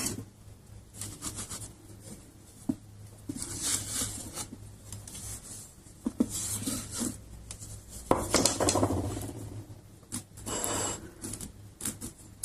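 A piece of foam scrapes excess clay from the bottom of a nearly leather-hard nerikomi mug, giving an uneven run of close scratchy rubbing and light knocks with no voice.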